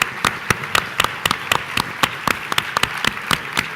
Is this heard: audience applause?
yes